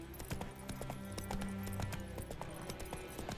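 Rapid hoofbeats of a horse in the video game The Witcher 3 clip-clop in a steady galloping rhythm, close and continuous, with a faint synthetic backing tone underneath.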